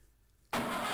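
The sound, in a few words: car engines starting in Amiga video game Jaguar XJ220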